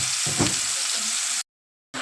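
Anchovies fry in hot oil with a steady, close crackling sizzle and some stirring, then the sound cuts out to silence for half a second before resuming.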